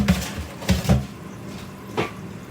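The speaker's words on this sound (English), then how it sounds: "We're going to set the roasting pan aside right quick." A metal roasting pan is handled and set down in a home kitchen, giving a few short clanks and knocks close by, followed by a quieter bump.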